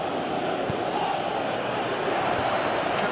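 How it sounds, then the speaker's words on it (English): Football crowd at a Chelsea versus Aston Villa match at Stamford Bridge, a steady loud broadband roar of spectators with a couple of faint sharp spikes, continuous throughout. "Crowd appreciates good football all round there."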